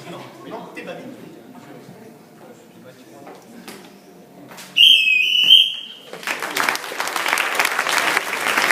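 A sharp, high whistle blast cuts through quiet background chatter, followed by a burst of applause and crowd noise.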